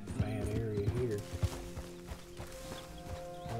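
Horse hooves clip-clopping on rocky ground in the video game Red Dead Redemption, a series of uneven hoof strikes, loudest early and then thinning out, with a voice talking over them.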